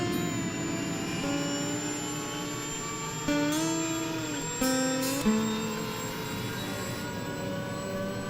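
Helicopter engine at full RPM, a steady high turbine whine with layered tonal hum, running continuously and fairly close with small shifts in pitch.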